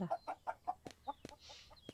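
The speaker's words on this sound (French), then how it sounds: "on a la petite poule qui nous fait les œufs" Small hen clucking in a farming supermarket simulator game, a quick run of soft, faint clucks followed by a couple of scattered chirps, with no talking.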